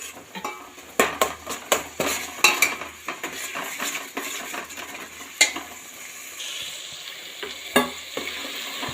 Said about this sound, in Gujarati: અને પછી ફરીથી એમને હલાવવાનું ચાલુ કરશું।